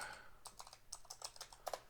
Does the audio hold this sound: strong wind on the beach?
no